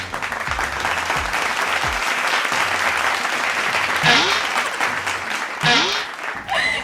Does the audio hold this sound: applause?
yes